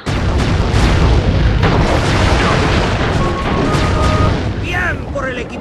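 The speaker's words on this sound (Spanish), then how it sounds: "¡Disparos!" Gunfire and heavy booms in the Sly 3 video game ring out over a dense, loud in-game soundscape, with voices speaking throughout and a few sharp bursts near the end.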